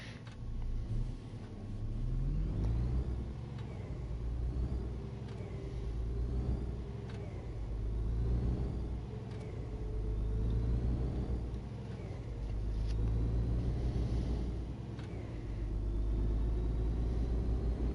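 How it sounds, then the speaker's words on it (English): A truck in a driving video game rumbles with a low, steady engine drone that swells and fades in slow waves, gear changes shifting its pitch, with no talk over it. "what you'd expect with regards to the actual engine noises sounding different"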